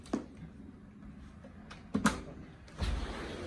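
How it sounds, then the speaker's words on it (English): Indoor door being opened, with a sharp latch click and thump near two seconds and a softer bump after, faint and close, no talking. "opening the door"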